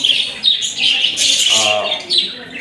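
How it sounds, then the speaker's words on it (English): Pet budgies in a cage chirp and chatter in quick, overlapping high tweets at close range, with a brief warbling call in the middle. "Friends, you can see now the birds"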